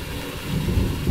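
Thunderstorm ambience in the horror video game Phasmophobia: a heavy rumble of thunder rolling in over a steady hiss of rain, loud and low, growing a little stronger toward the end.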